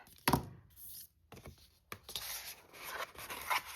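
A sheet of magazine paper being folded in half and creased with a bone folder: a sharp rustle near the start, then scraping and rubbing strokes, close and fairly quiet.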